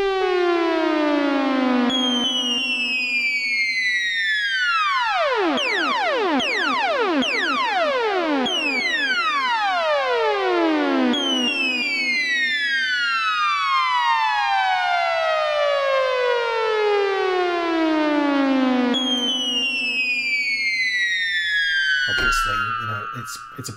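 An Arturia EMS Synthi V synth plays long, bright descending pitch sweeps that repeat and quicken as a joystick is moved, dense with harmonics, loud and steady, ending in a brief warbling burst.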